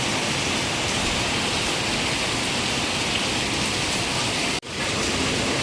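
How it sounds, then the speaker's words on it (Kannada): Heavy rain pours steadily and loudly in a dense, even hiss throughout, with a brief sharp dropout near the end. "ಮಳೆನೇ ಬಂದ್ಬಿಡ್ತು."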